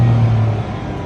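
Steady, loud, close engine drone inside an Indie 108 kei camper van with a CVT transmission while it accelerates up a steep road at around 30 km/h, with no talking.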